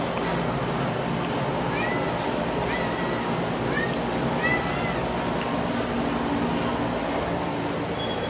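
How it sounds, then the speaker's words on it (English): A pet cat meows outdoors, giving several short mid-pitched calls spaced a second or so apart over a steady wash of broadband background noise. "Let me go ahead and bring my cat inside."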